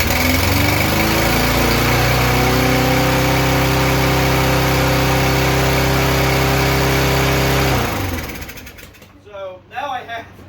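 A Yard Machines lawnmower engine runs loud and steady at a high idle indoors in a shop, a constant droning hum that cuts out near the end, leaving sputtering and clattering as it winds down.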